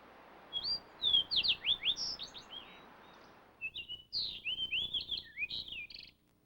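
A seaside sparrow sings clear, thin buzzy phrases with rapid chirps and trills, two bursts of song over a soft outdoor background hiss.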